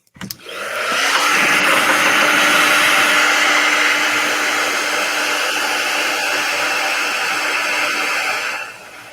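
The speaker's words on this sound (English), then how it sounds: "I'm going to hit them with a blow dryer." A blow dryer runs steadily for about eight seconds, drying a freshly painted door hanger, with a constant loud whooshing roar that starts abruptly and cuts off near the end.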